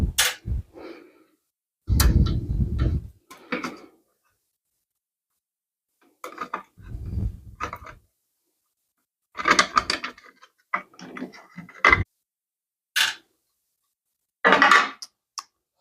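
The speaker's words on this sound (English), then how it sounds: "you need to remove these two safety covers here and also this safety cover here" Metal safety covers come off a Shopsmith jointer with a 1/8 inch Allen wrench: intermittent close clanks, scrapes and clicks of metal parts and tools, separated by quiet pauses.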